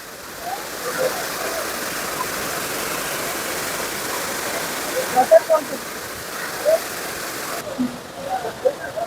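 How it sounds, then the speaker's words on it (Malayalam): Valanjaganam waterfall in Kerala pouring down with force in the rain, a steady rushing roar with brief louder splashes, heard near the roadside while people talk over it. "നല്ല ഫോഴ്സിനാണ് ഇവിടെ വന്ന് വെള്ളം വീഴുന്നത്"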